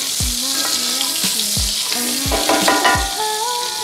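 Butter melts and sizzles in a pan as the base of a roux for mac and cheese: a loud, steady frying hiss close by, with a few dull knocks and a faint tonal hum.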